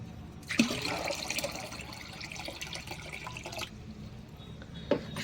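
Water pours and splashes into a container with a steady rushing flow, a few clunks at the start and end, close by.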